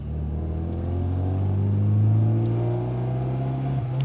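A Lada car engine held at steady high revs during a burnout, a sustained close droning roar that swells slightly midway and eases near the end, alone without talk.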